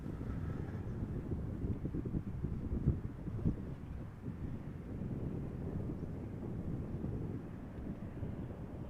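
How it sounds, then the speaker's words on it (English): KLM Embraer 190 jet arriving at Amsterdam Schiphol from London City, a continuous low rumbling engine roar heard from a distance and mixed with wind buffeting on the microphone, with no talking. "So this is KLM flight 982, an Embraer 190 arriving from London City"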